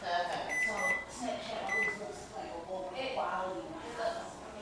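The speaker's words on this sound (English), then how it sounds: "I'm going to put a 3-minute timer on" A kitchen timer being set for three minutes gives several short electronic beeps in a busy kitchen, heard under ongoing talk.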